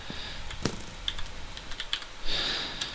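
Rapid keystrokes on an unfamiliar computer keyboard during a PvP game, close and crisp with uneven rhythm, clustering into a denser burst of clicks near the end.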